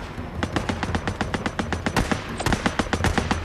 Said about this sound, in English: Oh, with the shotgun, sorry.